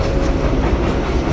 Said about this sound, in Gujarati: અને રેલગાડી આવે જો તમને બતાવી દઉં.